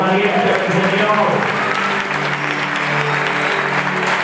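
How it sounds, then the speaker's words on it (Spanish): A church congregation applauds, the clapping and crowd noise rising at once and staying loud through the short moment, with a voice speaking over it. "denle un fuerte aplauso a los parientes del Señor"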